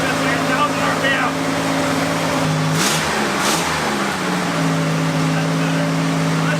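An old barn-find Chevrolet Corvair engine idles steadily at about 1,000 RPM with a loud, even hum. It stumbles and dips briefly partway through, then settles back into its drone, and a voice can be heard over it.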